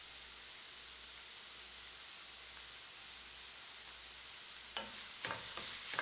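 Vegan broccoli slaw fried rice in a pan, a faint steady sizzle that turns into a few louder scraping stirs near the end.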